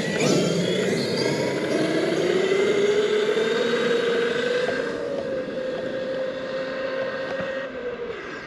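A Traxxas Xmaxx RC truck on 8s with Sledgehammer tires and high-speed gearing makes a sustained, loud electric motor whine that climbs in pitch and holds steady, close by, with no talking.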